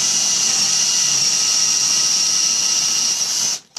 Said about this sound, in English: Let's put a decent drill in.